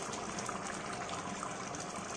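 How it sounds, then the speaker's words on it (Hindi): A chicken dish boiling steadily in a pot, a dense continuous bubbling and hissing close up that stays even throughout with no voices. "ये पूरा अच्छे से उबल रहा है, इसका पानी सूखने के बाद ये तैयार हो जाएगा।"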